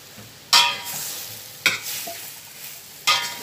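Onion, carrot, pepper and tomato are stir-fried with lamb for kabsa, with three loud, close bursts of sizzling and scraping, each fading over about a second, over a quiet background.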